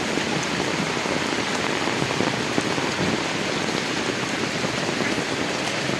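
Rain on a rainy day outdoors, falling steadily and densely on surfaces as an even, close, unbroken patter, with no voices.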